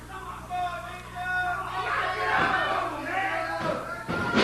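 Wrestling arena crowd at a 1998 OVW TV taping, a steady loud roar of fans with shouts rising and falling, under a commentator's voice, with a sharp burst near the end.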